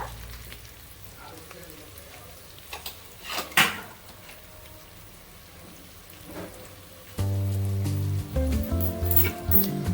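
Onions turned golden brown fry and sizzle in a pan as ginger garlic paste goes in, a steady soft crackle with a few sharper clatters, then louder tonal kitchen noise near the end.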